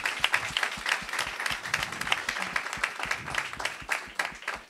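Dense audience applause fills an auditorium for several seconds, steady rapid clapping from many hands with no voices standing out.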